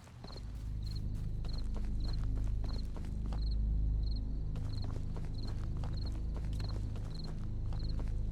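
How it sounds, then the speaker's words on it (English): Footsteps in the horror game The Beast Inside thud along at an even walking pace over a low rumbling background, with a faint regular ticking above them. "This game's sound sometimes making me feel like my footsteps are actually someone else's footsteps."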